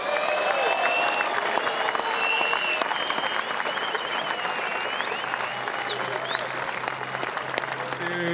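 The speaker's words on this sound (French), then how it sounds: "on peut l'applaudir" Applause from the crowd at a Tahiti Fighting Championship event for a UFC striker, a dense continuous clapping that holds steady throughout with scattered cheers and whistles rising above it.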